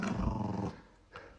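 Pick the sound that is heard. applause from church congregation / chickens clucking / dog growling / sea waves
dog growling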